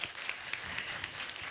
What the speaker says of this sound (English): Can give her a clap.